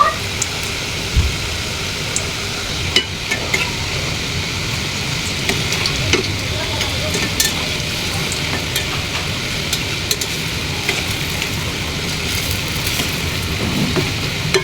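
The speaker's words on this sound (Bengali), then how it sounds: "তাই গরম তেলের উপর আবারও পিঠাগুলো দিয়ে দিয়েছি।" Coconut-filled pitha dumplings fry in hot oil, giving a steady, dense sizzle and crackle that runs throughout at moderate loudness, with no voices.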